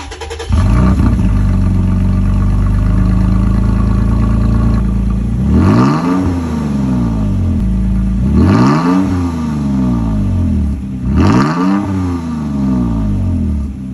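A Toyota Tacoma truck with an AWE Tuning dual exhaust idles with a deep, steady rumble, then revs up three times in sharp rising bursts, loud and close.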